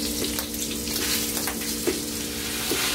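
Beef frying in a discada pan for norteña discada, a steady bright sizzle with faint scrapes and a few soft clinks, close and without talk.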